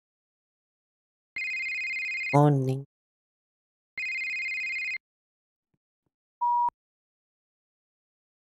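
A telephone in a Roblox video game rings in two evenly spaced electronic bursts of about a second each, clear and upfront, with a brief spoken greeting between them and a short beep afterward.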